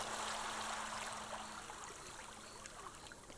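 A gentle river in Costa Rica babbles and trickles softly at low level, a continuous quiet flow with small bubbling details and no other sounds intruding.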